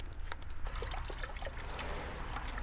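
Beef broth pours into a pot for pork and chicken lettuce wraps, a quiet steady trickle with small splashes and drips.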